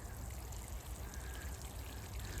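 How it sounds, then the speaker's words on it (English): Water trickles and pours steadily onto a potted pumpkin plant, a soft continuous splashing stream held at a close, even level throughout. "What I'm going to do now, water this pumpkin."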